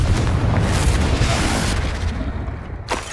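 A loud, rumbling fiery blast from the Confringo spell in Hogwarts Legacy, a dense booming burst that stays heavy and slowly tails off with crackling debris.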